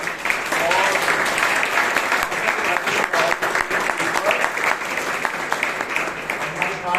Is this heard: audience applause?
yes